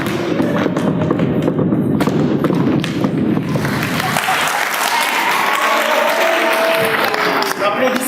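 Loud applause from a theater audience, mixed with thumps and a low rumble at first, then thinning as other sounds take over in the second half.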